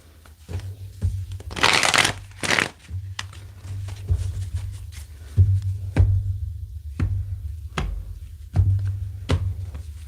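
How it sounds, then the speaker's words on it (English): Tarot cards get shuffled by hand in a riffle-and-bridge pattern, with a loud close burst followed by repeated sharp taps and snaps at irregular intervals over a low steady hum, close to the listener and with no talking. "Let's get one more good shuffle here."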